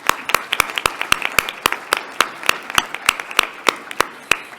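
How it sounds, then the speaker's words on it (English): A small number of people clap at a STEM scholars meeting, with sharp, distinct claps in a brisk uneven rhythm that is clear and fairly close rather than a dense crowd wash. "please give yourselves a round of applause"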